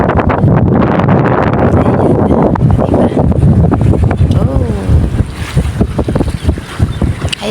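Strong wind roars and buffets the microphone in loud, gusting rushes, with a person's voice briefly heard beneath the blustery noise.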